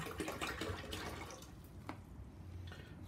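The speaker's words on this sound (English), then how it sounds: "So I'm pouring again another 2 liters." A second two liters of tap water is poured from a bottle into an Amzdeal ultrasonic humidifier tank, a close, continuous watery splashing that thins toward the end with a few drips.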